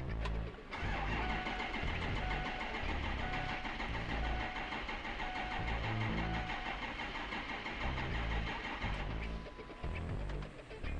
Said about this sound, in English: Now we'll crank the engine and look for bubbles in our fuel system.